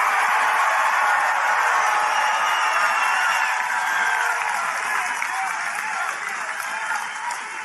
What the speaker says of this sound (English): when I see the people cheer like that